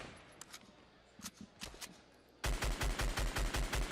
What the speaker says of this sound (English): Even when he's shooting just the assault rifle.